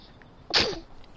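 A single sharp sneeze bursts out close by, short and loud against quiet room tone, with a brief trailing tail and no talk in the clip.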